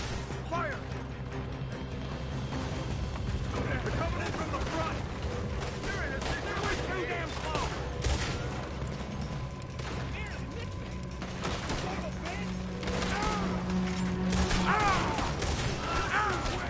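Gunfights in Red Dead Redemption 2, with repeated gunshots and volleys crackling over a steady game soundscape, while characters shout and talk throughout.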